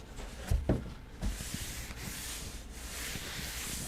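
Wood is hand-sanded with fine 320-grit sandpaper, heard as soft, close rubbing strokes with a few sharper scuffs early on, then a steady quiet scratchy hiss.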